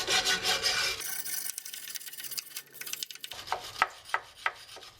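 A worn, cut-down wire brush scrubs loose paint and rust off a John Deere 110 tractor, a close, harsh rasping in quick repeated strokes, some short and choppy, with no talking.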